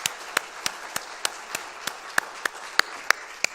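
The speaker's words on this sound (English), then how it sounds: "Let's give another round of applause to Maura" Applause from an audience for Maura, heard as sparse, evenly spaced claps at a steady beat, fairly near and crisp, with no voices over them.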